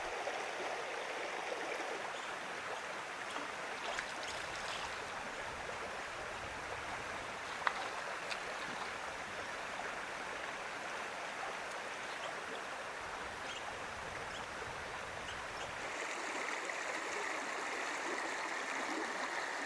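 Small mountain creek in Montana, Schafer Creek, rushing and burbling in a steady broadband wash of water over rocks, close and continuous for the whole stretch with no voices.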